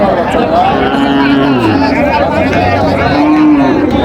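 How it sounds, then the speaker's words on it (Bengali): A cow with her calf lows repeatedly at a busy cattle market in Raniganj, Dinajpur, the drawn-out moos sounding close and loud over a steady murmur of crowd chatter and talking voices. "গাভী বাচ্চা আমরা দেখছিলাম এখানে"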